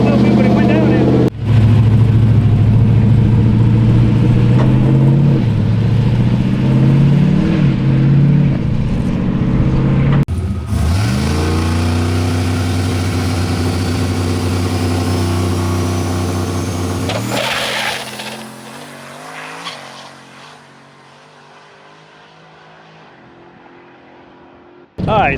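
A race truck making a test pass at a drag strip, its engine roaring loud and steady with shifting tones, then cutting off and fading away toward the end, with people talking over parts of it.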